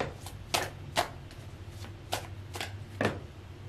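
Tarot cards shuffled and drawn from a deck, a run of crisp riffling bursts and flicks repeating at irregular intervals, close and fairly quiet.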